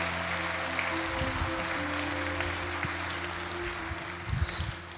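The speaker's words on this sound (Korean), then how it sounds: "우리 박형은 목사님 나오실 때 큰 박수로 맞아주시기 바랍니다." A church congregation at a Korean worship service applauds to welcome a guest pastor, a steady, moderately loud wash of clapping that fills the room and holds evenly throughout without voices.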